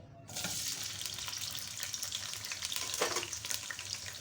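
Chopped onions drop into a pot of hot oil, setting off a loud, steady sizzle and hiss that starts abruptly and crackles on close and continuous, with a small stirring clatter near the three-second mark.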